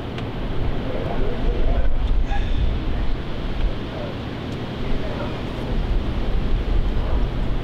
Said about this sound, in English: how windy it is out here